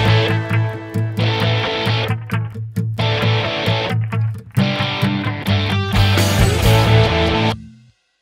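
Layered acoustic and electric guitars playing muted rhythmic parts together with a distorted riff, dense and loud with choppy stop-start bursts, ringing out and fading at the end.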